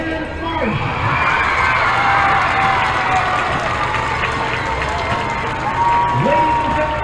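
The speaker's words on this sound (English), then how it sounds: "please give one final round of applause for your 2021 homecoming court" Stadium crowd at a high school football game applauds and cheers the 2021 homecoming court, a loud continuous roar of clapping, shouts and children's yells filling the stands, with faint voices scattered through it.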